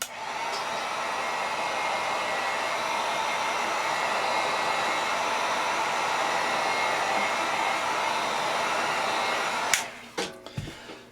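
Blow dryer drying airbrushed paint on a model mask, a steady loud whooshing hum running for about ten seconds before it switches off, followed by a few handling knocks.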